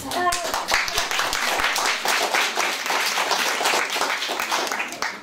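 A room full of people claps together in a lively burst of applause, fairly close, steady for several seconds.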